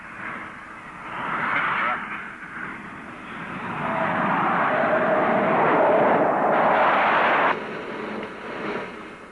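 A model McDonnell Douglas F-4 Phantom airplane flies in to land with its gear down, a loud steady jet engine roar that swells around the middle, holds, then drops away near the end.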